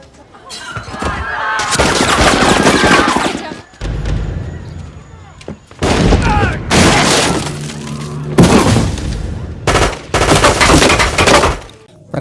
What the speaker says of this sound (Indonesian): tiba-tiba terdengar suara tembakan, disusul suara tembakan lainnya